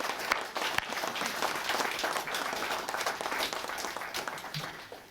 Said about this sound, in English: can I have please ask everybody to give another big applause to all of our award winners